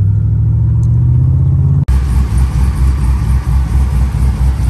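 A twin-turbo Chevrolet Silverado pickup engine with turbine mufflers rumbles loudly nearby, shifting partway through from a smooth low drone to a rougher, pulsing exhaust rumble.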